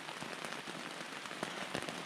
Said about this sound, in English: I'm sure you can hear it started to rain